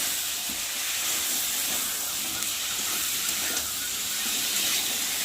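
Ingredients fry loudly in a pan for a ridge gourd fish curry, a dense continuous hiss and sizzle with no pauses, close and steady throughout.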